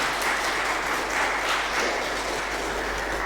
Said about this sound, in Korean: 우리 일어나 인사할 때 박수로 환영하겠습니다.